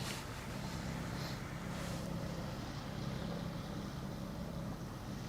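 A fast boat passes on the Westerschelde, a steady low engine and hull rumble with wind noise across the microphone, constant in level throughout.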